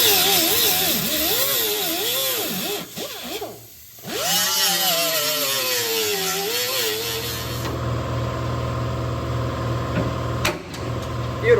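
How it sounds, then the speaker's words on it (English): An angle grinder cuts off a factory nutsert on a 1932 Ford, a loud continuous whine that rises and falls in pitch as it bites, with a short pause near the middle before winding down into a lower steady hum. "I'm just gonna grind that off and then poke it out and put a new nutsert in"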